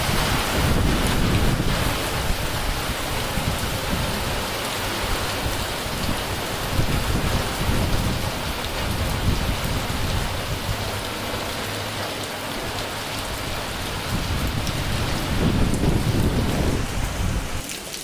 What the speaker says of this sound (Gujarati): ફક્ત એક મિનિટમાં કેટલો વરસાદ આવ્યો જોઈ શકો છો